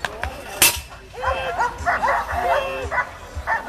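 A dog at a running race yips, whimpers and gives short barks in a quick irregular series, close by, with a crowd murmuring and some voices underneath.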